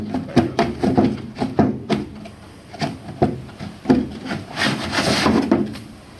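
A glued or gasketed part is worked loose on a 1966 Ford Bronco during a hood removal, giving a series of close, irregular creaks, scrapes and rubbing knocks with a brief louder grinding stretch near the end.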